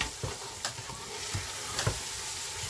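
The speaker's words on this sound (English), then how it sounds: "we'll add some red and green chilies to this. Stir them in." Red and green chilies are stirred into carrots and beans frying for vegetable biryani, a steady close sizzle of hot oil with soft scraping stirs recurring every half second or so.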